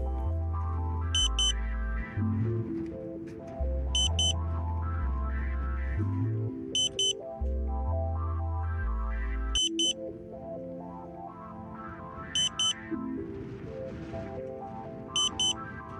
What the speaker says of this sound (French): Vous devez maintenant réinitialiser le modem et attendre 7 tonalités de battement de cœur.